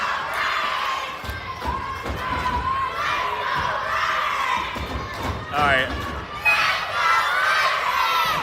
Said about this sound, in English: Dueling chants by the respective crowds.